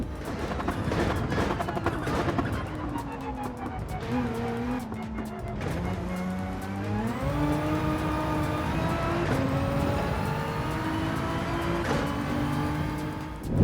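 A race car in Gran Turismo 7 drives continuously, its engine note rising and falling through gear changes with tire squeal and skidding, loud and steady from start to finish.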